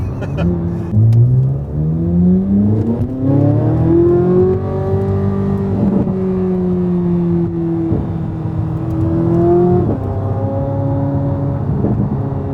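A Corvette Z06 engine revs up and holds, rising in pitch with a few quick throttle blips, loud and close.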